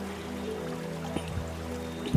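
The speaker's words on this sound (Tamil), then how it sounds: "புளி கரைசலோட ரெண்டாவது தண்ணியும் ஊற்றிக்கிறேன்" Tamarind water poured into a fish curry simmering in a clay pot, a soft continuous trickle and splash under a low steady hum, with a short louder thump near the end.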